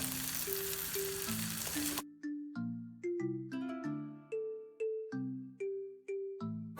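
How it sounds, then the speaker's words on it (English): Peas frying in oil in a pan, a dense hiss and sizzle for about two seconds with a simple melody playing over it, then the sizzle cuts out and only plucked melodic notes remain. "I'm going to add some oil and fry my peas."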